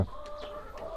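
Soft clucking from a few chickens nearby, with short, irregular calls over a quiet, steady farmyard background.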